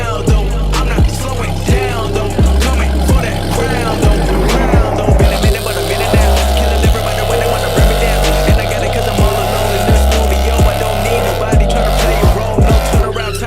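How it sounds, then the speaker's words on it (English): A Dodge SRT Hellcat at the drag strip revs hard in a loud, steady burnout just past the water box, its engine pulsing in repeated surges with tire roar throughout and no talk over it. "Pull up about maybe 5-6 feet out of the water box, and that's where you'll perform your burnout."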